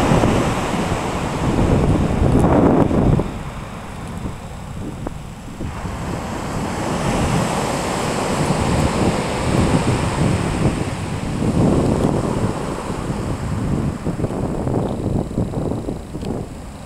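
Sea waves surge against the harbour wall at South Beach, Aberystwyth, during a high spring tide: a loud, continuous roar of surf that swells and recedes, with heavy wind buffeting the microphone throughout and no voices.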